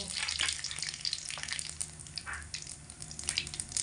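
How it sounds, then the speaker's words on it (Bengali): Whole bay leaves, a dried red chilli, cumin and black cumin crackle and sizzle in hot oil, a steady loud frying hiss with small pops throughout, no voices. "এবার আমি ফোড়নে দিয়ে দেব 2টো তেজপাতা, একটা গোটা শুকনো লঙ্কা, অল্প একটু গোটা জিরে আর কালো জিরে কিছুটা পরিমাণে ফোড়নে দিয়ে দিচ্ছি"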